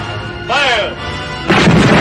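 Naval guns fire aboard a ship, each shot a loud close boom with a crashing burst, with a shouted voice between them.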